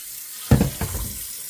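Hot water gushes from a tap into a heavy-duty sink, starting abruptly with a loud splash and then running steadily at moderate volume.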